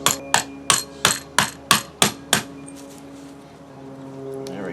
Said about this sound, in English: It might be a tight fit, so you're going to have to use a hammer or something.